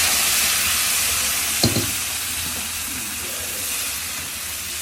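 Cooked moong dal poured into a hot fried onion tempering, a broad hissing sizzle with a brief splash near the start that settles into a steady steamy hiss, with no voices.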